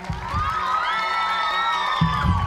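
Studio audience at a live children's talent show gala cheering and shouting in a sustained, loud wash of excited young voices, with bursts of whoops rising over a steady crowd roar.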